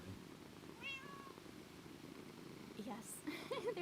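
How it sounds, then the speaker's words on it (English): Cats in Minecraft purr as a low, continuous rumble that sits under soft talk, with a short meow partway through and more voices near the end. "So much purring happening."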